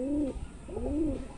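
A breeding pair of pigeons in a loft, the hen sitting on eggs, gives two close, rolling coos, one after the other, with a little quiet between them.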